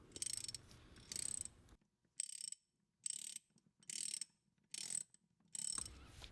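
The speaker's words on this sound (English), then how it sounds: "use your 14mm socket and a wrench to tighten it all the way up" A ratcheting socket wrench fitted with a 14mm socket tightens a valve seat, giving about seven short bursts of rapid clicking separated by brief pauses. The sound is close and clear, with no talk.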